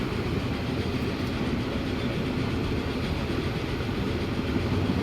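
In the railway simulation game Transport Fever 2, a train runs on rails with a steady, continuous low rumble and soft clatter, even in loudness throughout, with no talk over it.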